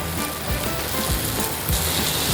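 Masala frying in oil in a pan for cauliflower sabzi, a dense, steady sizzle and crackle heard up close with no talking.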